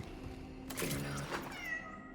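Cat meowing in the video game Cronos: The New Dawn: a single drawn-out meow sounds alone over a low ambient hum, fairly close and clear.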